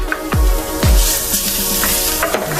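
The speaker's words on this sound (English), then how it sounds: "we're gonna put our minced garlic in there" Minced garlic, about two tablespoons, sizzles in a hot skillet for a garlic butter mushroom sauce, a steady frying hiss with a few soft stirring clinks and scrapes, close and alone.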